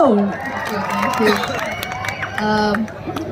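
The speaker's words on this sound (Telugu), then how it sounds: "మన అమ్మాడి ఐశ్వర్య గారికి గట్టిగా చప్పట్లు." An audience claps and cheers for actress Aishwarya Rajesh at a Telugu film event, the applause rising in a broad, steady wash while a speaker's voice carries over it.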